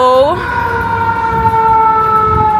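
An emergency vehicle siren, an ambulance or fire truck on a Chicago street, rises at the start and then holds a loud, steady wail among buildings, over traffic rumble with voices chatting nearby.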